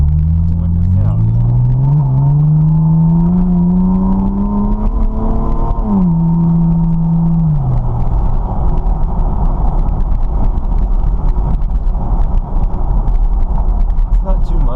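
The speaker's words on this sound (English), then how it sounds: "First did the exhaust, it seemed kind of loud and raspy a lot" Aftermarket exhaust on a 2010 Chevrolet Camaro heard from inside the cabin with the windows down, a loud rumbling drone that rises in pitch through revs, drops, climbs again, then settles into a steady cruise rumble.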